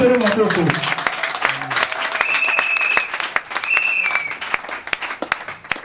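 A church congregation claps and applauds in a dense, sustained burst close by, with whistles and voices calling out over the clapping as it gradually thins toward the end.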